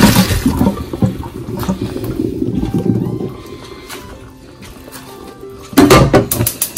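Water poured off boiled chicken feet being drained for adobo, a loud close gush and splash that slowly tapers off, then a brief burst of splashing near the end.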